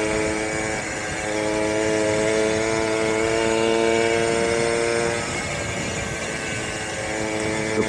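A motorcycle ridden on the road, its engine droning steadily and loudly with even tonal hum and wind rush throughout, no talk.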